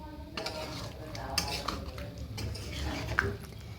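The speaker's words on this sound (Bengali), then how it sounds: "যাই হোক, দিয়ে এবার মিশিয়ে দিচ্ছি।" A utensil stirs chicken and cauliflower curry in a pan, making repeated close scrapes and metallic clinks over a low, soft sizzle.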